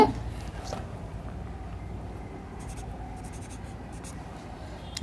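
A formula being written out for a class seven maths lesson gives soft, continuous scratchy strokes close by, fairly quiet and steady with no clear speech over it.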